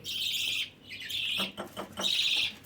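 High, insistent chirping from a budgerigar chick during hand-feeding, several bursts with short gaps between them, close and fairly loud with no one talking.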